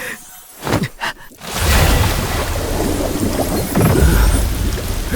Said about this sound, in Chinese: 水，有水的声音，井里出水了。